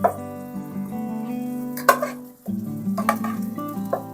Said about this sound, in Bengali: ভাতটা আমি দিয়ে দিচ্ছি